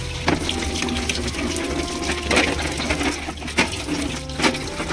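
Water pours steadily onto an item to soak it before washing, making a rushing, splashy flow with several louder gushes over roughly five seconds.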